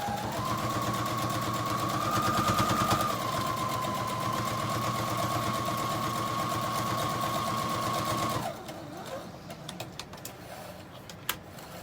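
A sewing machine stitches straight across a homemade holiday table runner, a steady close whirring run for about eight seconds that then stops, leaving faint handling clicks.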